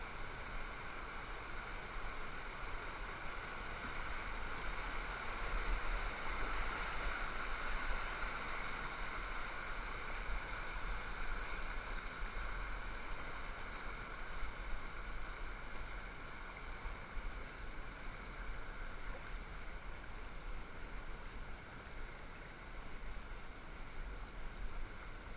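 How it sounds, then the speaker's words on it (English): Rushing river water and waves heard from a raft on the Chickley, a steady broadband wash with low rumble running unbroken throughout, no voices. "trying to get in the same general direction of the current and the waves"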